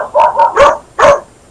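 A dog barks four times in quick, loud succession, three sharp barks close together followed by a short pause and a final bark, with no talking over them.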